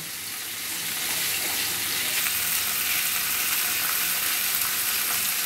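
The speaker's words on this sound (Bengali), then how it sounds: "প্রথমে মাছগুলো ভালোভাবে ভেজে নিতে হবে" Steady crackling sizzle of fish frying in hot oil, continuous and fairly close, with no voices.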